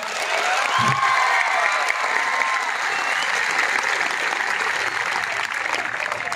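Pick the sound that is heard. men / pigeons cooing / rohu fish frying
men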